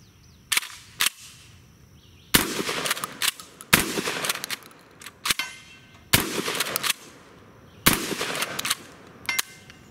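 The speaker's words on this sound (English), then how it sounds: "Here's the KelTec KSG. It has 14 rounds of 12 gauge 2 3/4 shells on board. Only 32 inches long. Let's see how it shoots." A KelTec KSG 12 gauge pump shotgun loaded with 2 3/4 shells fires a series of loud, sharp blasts outdoors, each followed by decaying echo and occasional pump-action clacks, with several seconds between most shots.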